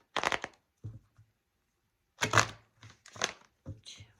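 Crisp riffling bursts of tarot cards being shuffled, coming in short separate rounds with brief pauses between them, close and moderately loud.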